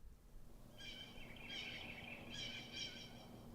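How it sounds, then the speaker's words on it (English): Quiet recorded birdsong effect: a few bright, high chirping phrases trill in bursts over a low steady hum. "Yeah, okay, bird song."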